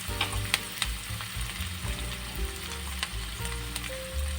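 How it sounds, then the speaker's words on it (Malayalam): A cup of chopped onions sautés in a pan with a constant, close sizzle, punctuated by sharp utensil clicks and scrapes as they are stirred. "നല്ല പോലെ വഴറ്റിയെടുക്കണേ സവാള."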